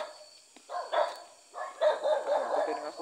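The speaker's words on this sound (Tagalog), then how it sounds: "Nakbultay ng aso yan" A dog barks repeatedly on a dark shortcut path at night, a run of loud, close yips and barks bursting in clusters with brief pauses between them.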